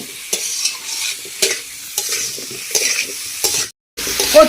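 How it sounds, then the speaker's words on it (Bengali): Large taro pieces are stirred and sautéed in spice paste, with repeated close scraping strokes over a low sizzle and a brief dropout near the end. "ভালো করে 10 থেকে 15 মিনিট ধরে কচুটাকে কষিয়ে নেব।"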